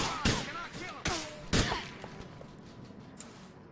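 Gunfire from police officers shooting a suspect in the LCPD:F mod: three sharp shots roughly half a second apart, each with a short echoing tail, followed by fading ambient noise.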